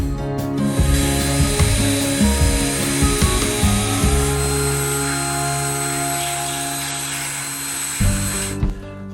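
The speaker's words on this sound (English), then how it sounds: "I picked up this hard metal drill bit so I can widen" A hard metal drill bit widens a hole in a trailer light mount, a loud steady whine with uneven bursts and pitch shifts in the first seconds, then a smooth sustained drone that drops off near the end.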